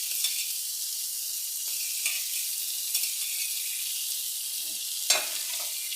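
Fried potato pieces go into a rohu fish and cauliflower curry, which keeps up a strong, even sizzle close by, broken by a few soft stirring clacks and one sharper knock of the spoon near the end.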